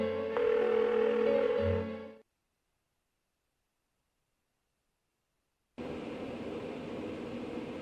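An unanswered phone rings during a Persona 4 video game cutscene: a steady electronic tone plays for about two seconds, then there is silence, then the tone returns and holds. No one speaks.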